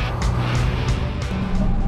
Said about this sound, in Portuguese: E o carro acelerando forte.